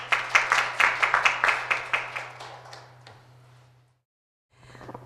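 Applause at a seminar, a short burst of quick hand claps from a small audience over a faint steady hum that thins out and fades to silence.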